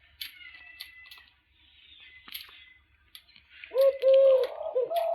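Doves kept in a backyard give a few soft, hollow coos toward the end, near and moderately loud. Thin chirps and scattered clicks come before them in an otherwise quiet setting.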